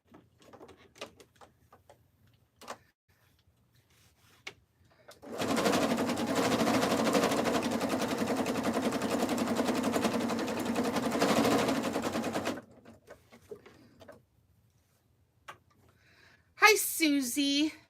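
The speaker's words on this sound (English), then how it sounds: "We're sewing the fabric tube right now for the jelly roll rug." A sewing machine stitches a fabric tube for a jelly roll rug, running in one loud, steady, rapid burst for about seven seconds between quieter stretches with soft handling noises and a voice near the end.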